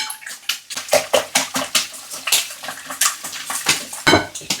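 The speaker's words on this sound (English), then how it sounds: "we're going to whisk the eggs because we don't want any white bits" Eggs whisked briskly in a bowl by hand for a Spanish tortilla, giving rapid, rhythmic clinking and sloshing strokes close up, with a brief pause, no voices.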